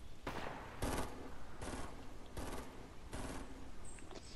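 Gunfire in a video game is aimed at a ramp: five or six sharp, loud bursts of rapid shots come at a fairly even rhythm, separated by short quieter gaps.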